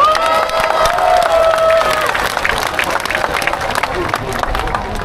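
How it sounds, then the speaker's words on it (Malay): A large crowd claps and cheers loudly, with whistles and shouts mixed into the sustained applause. "Beri tepukan kepada pihak PDRM Kudat."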